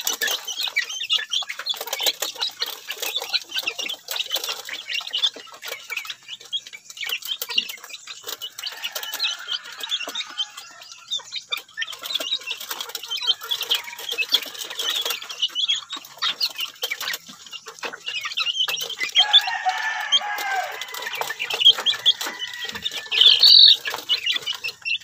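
Yellow-legged hatch chickens in a backyard flock cluck and call continuously, with scattered wing flaps and busy overlapping bird noises at moderate distance, no one talking.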